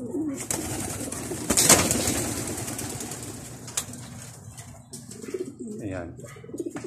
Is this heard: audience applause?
no